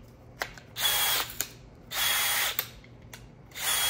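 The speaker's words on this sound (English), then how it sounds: "We got a little battery and the drill." A used cordless DeWalt or Milwaukee drill with a fresh battery whirs in several short bursts, spinning up and stopping repeatedly, with clicks between runs, close and fairly loud.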